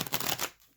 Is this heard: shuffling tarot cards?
yes